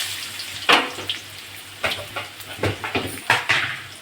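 Potatoes fry in hot oil for a Kadapa-style masala dish. A soft sizzle runs under scattered sharp clinks and stirring scrapes, with no talking.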